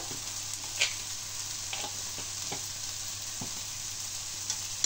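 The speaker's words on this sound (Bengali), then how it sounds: "আবার একটু নাড়াচাড়া করে দিই।" Spiced chana masala with keema and garam masala is stirred in a frying pan, a constant low sizzle punctuated by irregular scraping and knocking of the spoon against the pan, with no speech.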